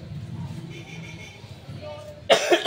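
A single sharp, loud cough bursts out near the end, close to the microphone, after a stretch of quiet background hum and faint murmuring talk.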